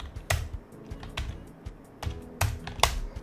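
Someone types on a computer keyboard, writing HTML code with Emmet shortcuts: irregular bursts of close, crisp key clicks with short pauses between keystrokes, no speech.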